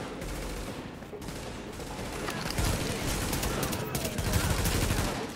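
Dense gunfire as a patrol comes under attack in the video game Tom Clancy's The Division: overlapping rapid bursts and shots form a continuous loud fusillade across the whole stretch, growing heavier in the second half.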